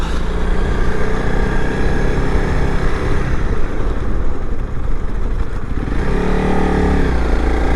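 A Honda CRF300L Rally motorcycle engine roars steadily throughout on single track, loud and close, with wind rush and a shift in engine note near the end as it changes speed.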